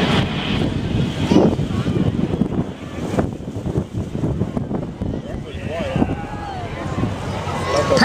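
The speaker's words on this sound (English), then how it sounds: "A plane turns to make its final approach for landing." Airplane engine droning as a plane turns onto final approach for landing, a rough roar mixed with heavy wind buffeting, with faint rising tones and people talking over it.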